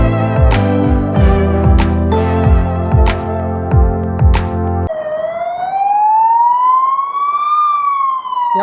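Ambulance siren on a Budapest street, starting with a loud rapid yelping pattern of sharp repeated bursts, then switching to a steady rising and falling wail as the vehicle passes close by.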